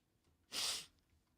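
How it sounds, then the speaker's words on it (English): A single sharp sneeze from a man, close and sudden, bursting out of near silence and fading within a fraction of a second. "I need you to say words while I sneeze"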